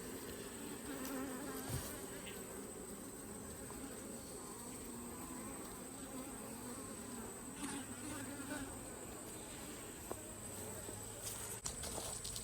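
Honeybees buzzing steadily around an opened hive in Spencer County, a dense, continuous drone of many insects close by, with occasional faint knocks and rustles from handling the frames.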